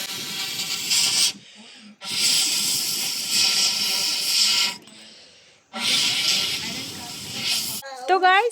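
Chicken frying in a pan over a wood-fired stove sizzles in loud hissing bursts separated by short pauses, close up, with a brief chirpy sound at the very end.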